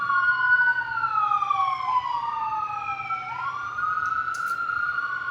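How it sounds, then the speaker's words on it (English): Several sirens wail at once, rising and falling in overlapping tones, fairly loud and steady with no talking. "Look at the sirens"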